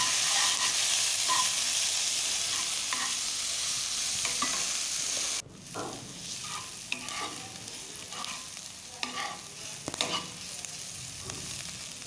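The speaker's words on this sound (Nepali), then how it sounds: "अब यो प्याजलाई हामी यसरी चलाउँदै जान्छौं र रातो नहुन्जेलसम्मको लागि पकाउँछौं" Chopped onions sizzle loudly in a pan for a mushroom gravy, then the frying drops sharply midway and scraping stirs with clinks continue under a softer sizzle.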